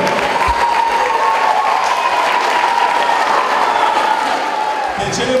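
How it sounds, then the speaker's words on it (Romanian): An audience at a school event applauds the Volei Municipal Zalău volleyball team, a sustained dense burst of clapping that fills the room evenly, loud and close, with some crowd noise and speech mixed in. "Haideți să-i aplaudăm!"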